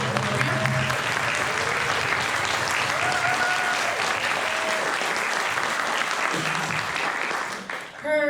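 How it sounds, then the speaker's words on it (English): A concert audience applauds composer Emily Graham at a spring wind-band concert, with dense, sustained clapping that continues steadily and then tapers off near the end. "Let's give a round of applause."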